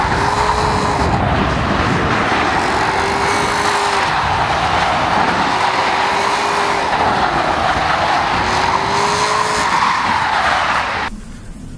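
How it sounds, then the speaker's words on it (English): A 2014 Buick Regal GS AWD on ice and snow tires launching at full throttle on ice, engine droning loudly and steadily with repeated rising tire whines as wheels slip, then cutting off near the end. "Just floor it here and see what happens, right? We are on ice and snow tires"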